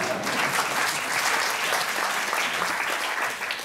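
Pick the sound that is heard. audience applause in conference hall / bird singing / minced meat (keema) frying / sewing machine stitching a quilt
audience applause in conference hall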